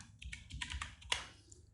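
A few quick key presses on a computer keyboard, light clicky taps in a quiet room, close and fairly soft, with no talking.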